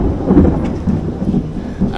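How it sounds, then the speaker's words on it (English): A thunderstorm at an Orlando resort brings loud, rumbling thunder over steady rain, a deep continuous roll that swells and fades with no voices. "a storm has rolled in."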